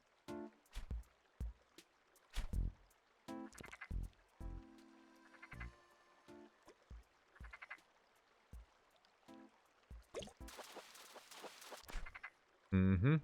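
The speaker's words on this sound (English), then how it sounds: "Frogs are one of the few fish in this game I think you can actually, like, hear." A frog in the Welcome to Outset game croaks in short, irregular bursts, some clipped and some drawn into low buzzy calls, with quiet gaps between and a louder splashy patch near the end.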